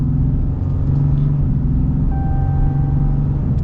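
A 2021 Ram 3500 Big Horn dually pickup accelerating on an empty holiday road, its engine giving a steady, loud, close cabin rumble with a faint rising whine partway through and no talk.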